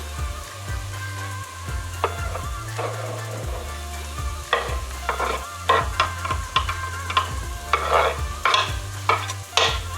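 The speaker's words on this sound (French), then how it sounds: "je vais pouvoir rajouter mes oignons à feu fort" Onions hit a hot pan over high heat, sizzling and frying while a utensil scrapes and stirs them in irregular bursts, close and clear, with no talking.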